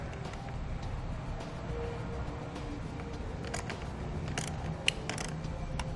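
Nut being reinstalled and tightened over a ring terminal on a stud while fitting a Roadmaster battery charge line kit for a towed vehicle, heard as quiet ratcheting clicks and metallic ticks over a faint background hum.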